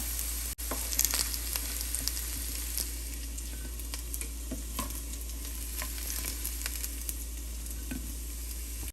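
Bitter gourd fries in a pan with a constant close hiss of oil, punctuated by scattered pops and a low steady hum underneath, no talking.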